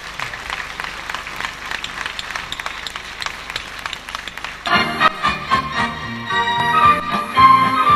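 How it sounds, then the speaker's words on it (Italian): Sustained applause from a live studio audience on a regional Italian TV show greeting Sonia Occhipinti as she comes on stage, steady dense clapping that swells when lively music enters partway through. "Un applauso per Sonia Occhipinti"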